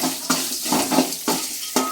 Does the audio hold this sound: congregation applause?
no